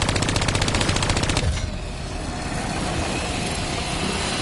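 Automatic gunfire in the video game Call of Duty Black Ops 3, a fast regular burst of close, loud shots that cuts off into a rumbling wash of game noise.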